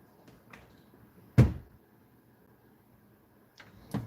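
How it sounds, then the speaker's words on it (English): A kitchen cabinet door is opened and shut, giving a sharp knock of wood followed by a few lighter clicks and taps in an otherwise quiet room. "I can tell every time this cabinet is open"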